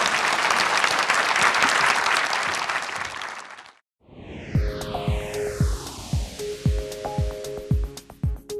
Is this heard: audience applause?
yes